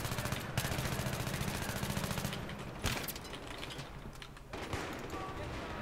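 Rapid automatic fire from a Pro 90 submachine gun in Battlefield 3, played on a close-quarters map: fast rattling bursts close to the listener, with brief pauses between volleys.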